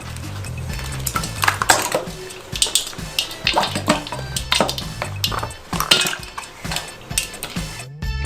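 Ice clatters into a bowl of very cold water prepared for chilling blanched broccoli, a run of sharp clinks and knocks against the bowl with light splashing, close and fairly quiet.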